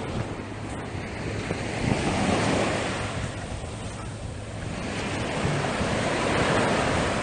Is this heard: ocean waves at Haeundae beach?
yes